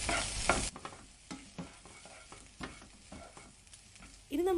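Spring roll filling is tossed in a pan over a high flame, giving a soft, continuous sizzle broken by light scraping and stirring knocks. A louder rush of noise opens the stretch and returns at the very end.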